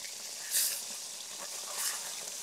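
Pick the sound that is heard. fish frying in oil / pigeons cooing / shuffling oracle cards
fish frying in oil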